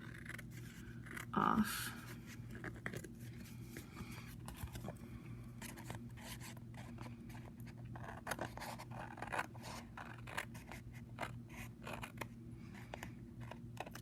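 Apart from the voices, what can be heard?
trimming the edge of paper for an envelope book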